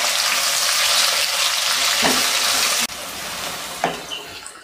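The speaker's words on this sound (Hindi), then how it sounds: "प्याज को जो है ना बहुत ज़्यादा डार्क ब्राउन नहीं करना है" Chopped onions fry in a pan with a steady, close sizzle, broken by a couple of brief stirring clinks; no one speaks.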